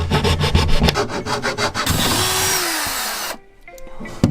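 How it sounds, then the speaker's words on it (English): A power drill boring holes in a camper van conversion, rhythmic grinding pulses, then a continuous whir that winds down in pitch before stopping, followed by faint clatter. "it's just going to be me drilling more holes"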